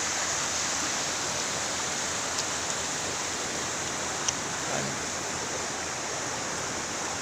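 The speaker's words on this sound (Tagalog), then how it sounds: "ito yung ilog na to." A river flows beneath a bridge between Olongapo and Subic, a constant broadband rush of water that holds steady throughout with no voices.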